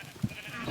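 Sheep bleating in the Minecraft video game, a short nasal bleat standing out near the start, with a faint second cry at the very end over a soft background bed.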